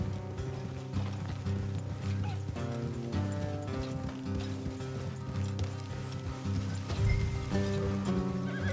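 Horses from the video game Red Dead Redemption 2 trot along with clip-clop hooves and an occasional neigh, set beneath a steady, dense layer of music that continues throughout.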